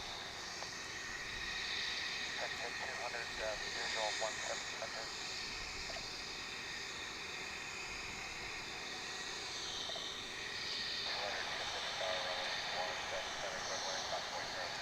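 Airplane engine roar at DFW International Airport, a steady broad rumble and whine heard from a distance with a faint shift in pitch partway through, over constant background noise.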